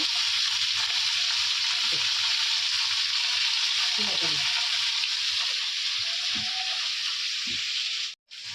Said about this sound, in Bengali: তো আলুগুলো ভাজা ভাজা হয়ে গেছে